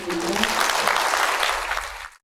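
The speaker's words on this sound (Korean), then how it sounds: "전반부 세계 경제 전망 해주신 권지민 선생님께 다시 한번 감사의 박수 부탁드립니다" Lecture audience at a bank's economic outlook talk breaks into applause, a full burst of clapping that stops abruptly at the end.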